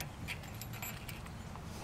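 A thin metal washer is pulled from a Ford Bronco's automatic locking hub, giving light metallic clinks and jingles over a low background hum, quiet and close.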